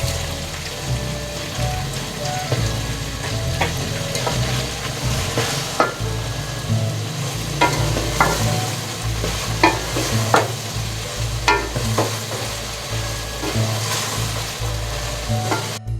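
Loud, continuous sizzling from a hot pan of onions and whole garam masala spices frying, broken by frequent crackles and pops as the contents are stirred.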